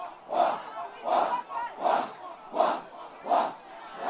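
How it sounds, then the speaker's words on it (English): A large crowd at a schoolboy rugby match between Pretoria Boys High and Afrikaanse Hoër Seunskool in Pretoria chants in unison, six loud rhythmic bursts about two-thirds of a second apart, each call rising and falling. "Fantastic crowd here in Pretoria."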